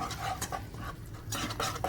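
A whisk scrapes and swishes through roux in a skillet in short, repeated strokes. The close, fairly quiet sound sits over a low background hum.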